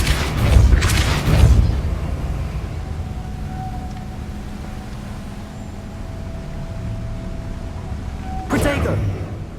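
Depulso force spell in Hogwarts Legacy, two dull booming thumps, one near the start and another near the end, over a quiet ambient hum.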